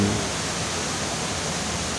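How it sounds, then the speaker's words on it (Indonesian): Bantimurung waterfall in Maros, South Sulawesi, pours as a steady, loud, even roar of falling water with no break or change across the moment. "tempat wisata air terjun Bantimurung, Kabupaten Maros, Provinsi Sulawesi Selatan"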